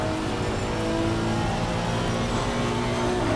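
A GT3 race car engine drones loud and steady at Red Bull Ring in a sim racing game, a constant high-revving roar heard from the cockpit without any talk.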